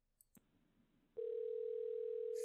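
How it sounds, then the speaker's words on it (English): A steady electronic telephone tone from the Hello Neighbor alpha video game, switching on abruptly and holding loud and unbroken to the end, preceded by a couple of faint clicks and quiet background. "Go answer your goddamn phone. Can't you hear it's ringing?"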